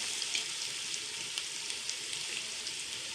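Tomatoes fry in a pan for beef trotters (paya), giving a steady, fairly quiet sizzle with small crackling pops throughout and no voices.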